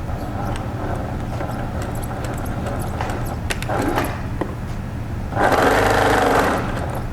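Sewing machine stitching fabric for a twist-style shirt, a close, steady mechanical whir with a constant background hum, surging louder in a stronger burst toward the end.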